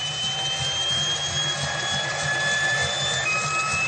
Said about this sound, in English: it gives you that simulation of you ramping up the engine itself,